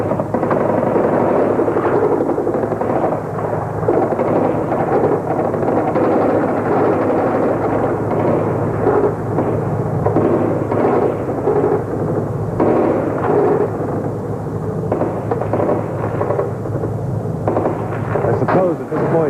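Sustained gunfire during the October 4, 1993 storming of the Russian parliament building in Moscow, rapid bursts and heavy booming shots overlapping continuously, rumbling at a distance while voices are faintly audible underneath.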